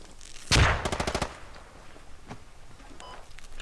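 A rapid burst of automatic rifle fire in the military shooter Squad, loud and close, a tight string of about eight shots followed by scattered distant reports.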